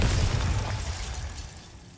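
Bombarda blasting spell going off in Hogwarts Legacy, a loud close booming burst with a shattering edge that fades out over about two seconds.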